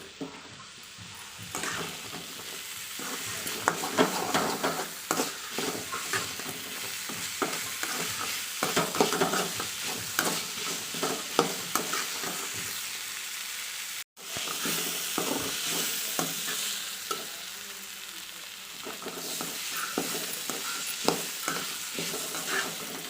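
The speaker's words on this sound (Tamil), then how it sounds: "பலாக்கொட்டையை சேர்த்து இந்த மசாலாவில் எல்லாம் பெரட்டி விட்டு ஒரு 3 நிமிஷம் நல்லா பெரட்டி வதக்கிக்கலாம்" Jackfruit seeds being stir-fried in masala in a pan, with a steady sizzle under repeated scraping and stirring strokes of a spatula, close and continuous for the whole stretch.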